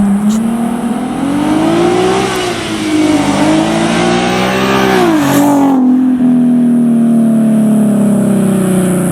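A car fitted with a Tomei Ti titanium exhaust drives by loud and close, its engine note rising and falling as it revs, then settling into a steady drone as it passes.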